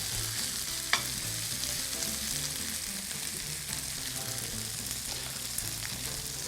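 Mushrooms and vegetables frying in a pan for a Hamakua mushroom frittata: a steady, dense sizzle holds throughout, with an occasional utensil tap against the pan, close and continuous.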